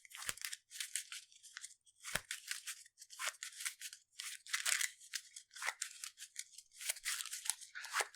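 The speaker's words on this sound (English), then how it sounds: "So we shuffle Winnie's cards in" A small deck of playing cards from the Arkham Horror card game is shuffled close up, a quick run of crisp riffling and sliding bursts with brief gaps.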